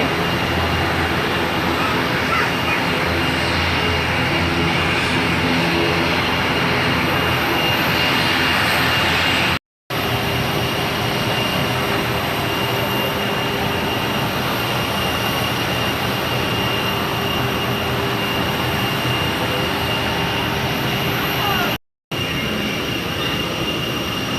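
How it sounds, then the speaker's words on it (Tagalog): An airplane engine fills the space with a loud, continuous broadband roar, close and steady for the whole stretch apart from two brief cuts. "So, ayan, sasakay na po kami ng aeroplano."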